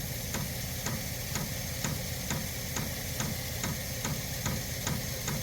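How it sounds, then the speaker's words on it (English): A Vevor pump runs with a steady mechanical hum and a regular ticking click repeating about twice per second, close by and constant. "You hear the pump kicking on."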